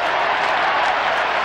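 A huge crowd at the 1993 AFL Grand Final between Essendon and Carlton keeps up a dense, loud, continuous roar of cheering and applause.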